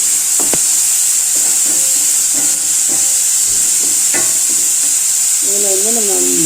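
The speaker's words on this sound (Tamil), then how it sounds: "மசாலா நல்லா வதங்கட்டும்." A tomato and spice masala sizzles and sautés in a pan with a steady hiss, while scattered stirring clinks sound near and clear, and a brief voice rises near the end.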